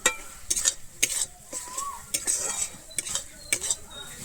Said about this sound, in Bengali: আমি চিনিটা দিয়ে আবারও খুব ভালোভাবে মিশিয়ে নেবো